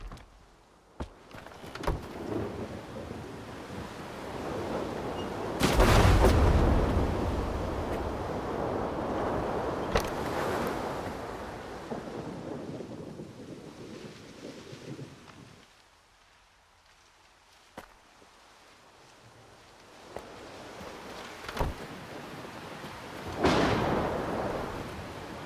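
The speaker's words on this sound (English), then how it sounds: "Yeah, really bad lightning storm." A thunderstorm in the video game Stalker 2 sounds in long rolling thunder rumbles with sharp cracks, and a heavy steady wash of rain or wind fills the gaps between strikes.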